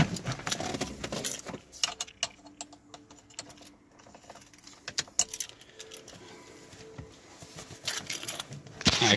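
A ring of keys jangles and rattles up close in irregular metallic bursts, heard beside a 1999 Mustang, louder at the start and again near the end.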